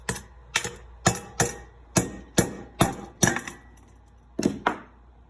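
A hammer knocks slag off a freshly poured lead button from backyard gold ore processing, giving about ten sharp, close metallic strikes in an irregular rhythm with a brief pause before the last two.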